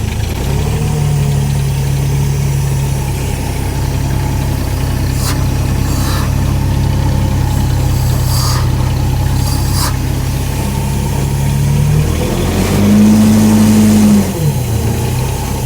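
A carpet cleaning truckmount engine idles steadily and loudly for about twelve seconds, then its pitch shifts up briefly as the throttle rises before dropping back, with no voices over the running motor.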